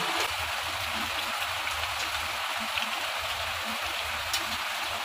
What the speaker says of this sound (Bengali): গরম জলটা দিয়ে কিন্তু একটু নাড়াচাড়া করে নিলাম। এবার বেশ কিছুক্ষণ ফুটিয়ে নেব।